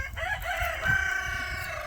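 Backyard chickens call out close by, a rooster-like crowing phrase with clucking underneath, steady and fairly loud, with no talking.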